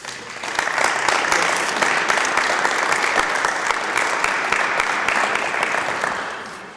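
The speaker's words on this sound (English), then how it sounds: "Let's give a round of applause to George Andrade." At a 2017 inauguration ceremony, a crowd claps in sustained, even applause for several seconds. It swells quickly and fades gently at the end.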